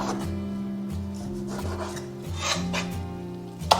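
A kitchen knife slices through a raw pork tenderloin in soft, repeated rubbing cuts, close but quiet beneath steady background music, ending with a sharper tap.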